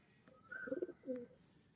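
Pigeons coo faintly in a loft, two short soft throaty coos with a brief pause between them.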